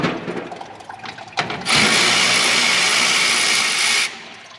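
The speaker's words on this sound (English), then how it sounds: "So all we got to do is take off a couple screws for the fan shroud." Power drill running steadily to remove screws from a car's fan shroud on a Nova SS, a loud continuous whir after a few brief clicks and rattles.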